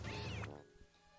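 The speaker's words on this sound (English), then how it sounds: "Essentially, you have to wait for the cat to pop up." A cartoon cat in the Rhythm Tengoku rhythm game pops up with a single short, bright meow, then the sound quickly fades.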